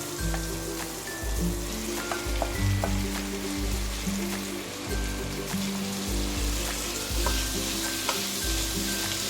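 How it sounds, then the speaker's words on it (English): Beef sizzles and is stirred in a frying pan with curry, a steady crackling hiss with repeated scraping strokes of the spoon, close and continuous with no talking. "keep stirring, don't let it burn"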